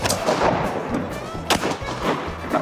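Gunshots from outdoor shooting in Alaska: a few sharp, fairly close reports in quick succession, with a strong crack midway, over wind and faint background voices.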